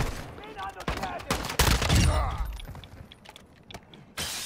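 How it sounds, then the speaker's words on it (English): Rapid bursts of gunfire and mechanical clatter in a DMZ shooter game match, loud and close, with volleys clustered in the middle and another burst at the end. "You are taking effective fire."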